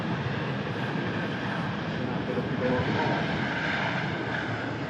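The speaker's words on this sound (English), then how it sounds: "Singapore Airlines A350 next to take off." Singapore Airlines Airbus A350 jet on its takeoff run, a moderately loud, steady engine roar that swells slightly midway, with a voice faintly present beneath it.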